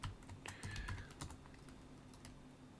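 Someone types on a computer keyboard in a quiet room, a quick scatter of soft, faint clicks clustered at the start and then thinning into sparse taps, with no voices.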